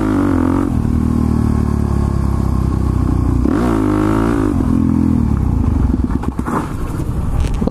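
A motorcycle engine running loudly close by, with a steady idle and then rising, wavering revs, with some clatter and mechanical noise toward the end.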